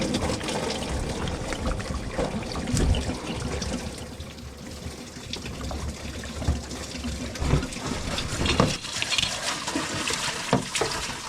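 Antifreeze coolant drains steadily from a 2007-2014 Chevrolet Silverado into a catch pan, a continuous splashing, trickling pour at close range with faint clanks over it.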